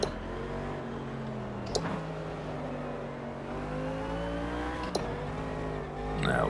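A race car engine in the Automobilista 2 sim racing game drones steadily through gear changes, with pitch rising and dropping through a corner and a couple of sharp shift clicks, loud and continuous without voices.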